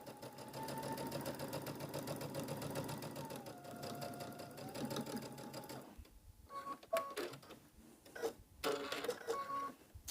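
A sewing machine chain stitching quilt seams for a floral wall hanging, a steady close mechanical whirr for about six seconds, then stopping into scattered handling clicks and rustles.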